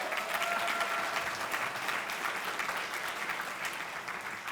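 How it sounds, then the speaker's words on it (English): Steady applause from a banquet audience honoring student scholars at a school district academic excellence event, a dense, continuous wash of clapping held at even volume throughout. "Let's give our scholars another round of applause."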